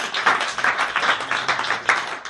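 An audience in a hall bursts into short, dense clapping, several rapid rounds of hands with a rising-and-falling rhythm, fairly close, with no voices over it.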